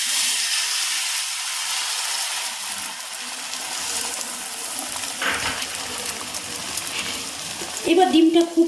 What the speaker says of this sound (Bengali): এবার আমি দিয়ে দিচ্ছি এই ফেটানো ডিমটা।